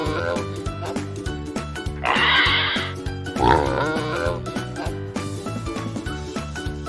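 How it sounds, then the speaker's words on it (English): A pig oinks and grunts over light rhythmic background music, with two loud bursts of squealing grunts in the middle. "Pig."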